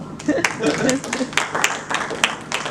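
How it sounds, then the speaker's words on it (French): An audience claps in a short burst of applause at a talk, the claps loud and close, with a voice speaking over them. "On peut l'applaudir."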